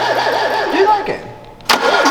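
A Lancia Delta engine cranks with compression leaking from the spark plug holes, making a rapid rhythmic chuffing whir up close, followed by a sharp burst near the end. Voices can be heard talking over it.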